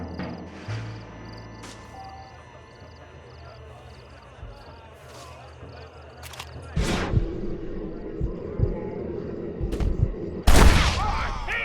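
Gunfire rings out in the Western video game Red Dead Redemption, with a couple of sharp shots late in the clip over game ambience, hoofbeats and in-game voices.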